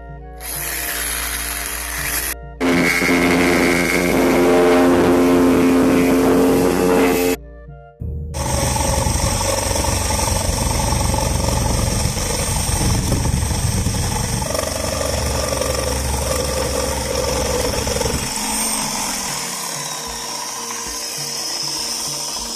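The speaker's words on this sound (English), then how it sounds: "it's time to get out our jigsaw and cut these little radius" A jigsaw cuts a small radius in wood, with loud buzzing bursts of sawing, a brief pause, then a longer steady cut nearby.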